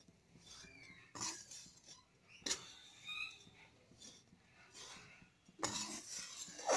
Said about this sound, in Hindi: एकदम धीमी आंच पर रखकर हम इसे भून लेंगे